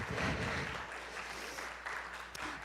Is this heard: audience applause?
yes